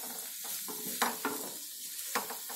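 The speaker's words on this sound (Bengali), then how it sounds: "আলুগুলো কিন্তু খুব সাবধানে নাড়তে হবে" Fried potatoes for jeera aloo sizzle in a pan while a utensil stirs and scrapes them in several quick, separate strokes, up close and fairly quiet.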